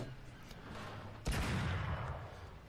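A tank cannon shot in War Thunder glancing off an enemy's armour: one sharp, heavy blast cuts through the steady engine rumble, followed by a dense, roaring tail.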